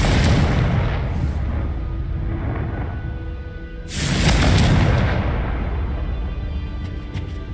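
A Confringo spell explodes in Hogwarts Legacy: a loud, broad blast bursts in around four seconds in, layered over an ongoing rumbling of game sound and spell effects.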